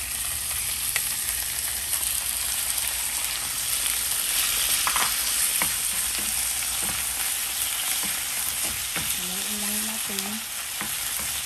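Chicken breast frying with onion and garlic in a pan, a continuous close sizzle with occasional scrapes and clinks of stirring.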